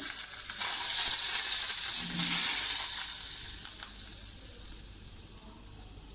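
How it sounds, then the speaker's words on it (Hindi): A loud, hissing sizzle as hot cumin-tempered oil is poured over yogurt dumplings (dahi phulki), strongest at first and gradually settling into a softer fry. "इसके ऊपर तड़का लगा देंगे।"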